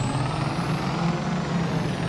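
Ford pickup truck engine in Farming Simulator 22, a steady, loud low drone with a rising high whine running across the clip, alone with no talk.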